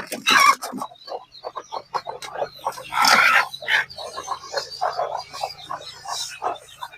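Free-range native chickens and chicks on a poultry farm, a busy mix of repeated chirps, peeps and clucks close by, overlapping in uneven bursts with no talk.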